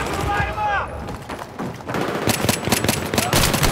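Rapid automatic weapon fire in the video game Battlefield 3, with bursts of fast shots and explosive thumps, loud and close, mixed with game effects and a voice talking over it.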